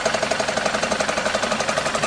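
A BMW G31 engine runs at idle with a steady, fast rhythmic knocking ticking through its mid-range hum, close and continuous with no talk over it.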